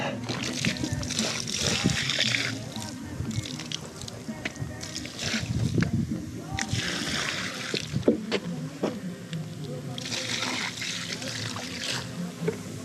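Water from a hose splashes and sloshes across acid-washed sand finish concrete, rinsing off residue in a steady, close wash that runs throughout, with someone talking over it.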